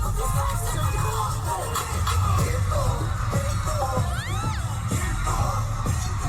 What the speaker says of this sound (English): See the crowd going crazy is so cool